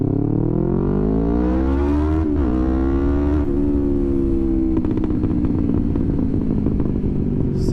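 A Yamaha R3 motorcycle accelerates hard through the gears, its engine note climbing loud and close, dropping sharply at each of several upshifts, then rising again into a sustained high-revving drone.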